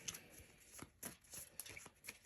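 A Four Against Darkness card deck is shuffled close and quietly, a series of soft riffling flutters and taps in an uneven rhythm, with no talking.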